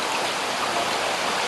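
Steady rushing flow of the Léguer river in France, a dense even wash of water running close and continuous with no voices.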